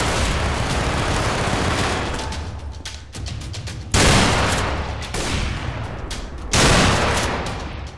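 Rapid gunfire in a Garry's Mod DarkRP game, loud dense bursts and volleys with short gaps between them, sharp and close.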